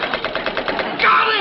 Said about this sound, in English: I rushed to the bridge, manned the machine gun, and began firing at the enemy aircraft.